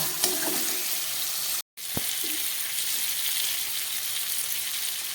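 Steady sizzling of beans and potatoes fried in a pan with salt and turmeric as spices go in, a continuous close hiss broken by one brief cutout, with a light clink or two.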